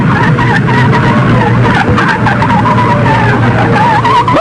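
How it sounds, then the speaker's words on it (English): A 1950s drag racing altered, a Crosley fitted with a Chevy V8, roars loud and close at speed, its engine note steady and harsh with tire noise throughout. "a Crosley powered by a Chevy V8 engine taking the traps first"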